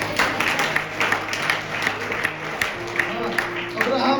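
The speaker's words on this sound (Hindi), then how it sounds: "ताली बजाएं जोर से।" A church congregation at a Pray For India Ministries sermon claps loudly in a steady, rapid rhythm, a dense wash of hand claps filling the room with a speaking voice faintly over it.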